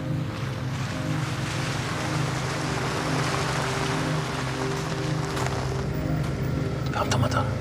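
Boat motor droning steadily on water outdoors, a low continuous hum mixed with wind and water noise, moderately faint, with brief knocks and rustles near the end.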